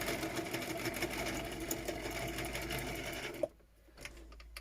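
A sewing machine runs steadily, stitching fake leather card stock with a fast, even mechanical whir, then stops abruptly, leaving only a faint click or two.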